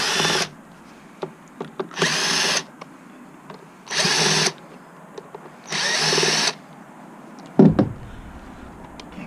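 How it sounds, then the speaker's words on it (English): Power drill backing screws out of a controller cover, four separate loud whirring bursts of about half a second each with brief pauses between them, then a clunk of the cover or screws being handled. "There's another four screws that need to be removed for the cover."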